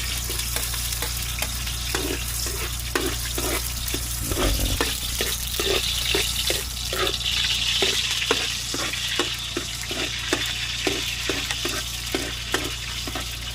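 Garlic sautéing in a pan over a wood-fired stove, a steady close sizzle with a regular rhythm of spatula stirring strokes scraping through it, no voices.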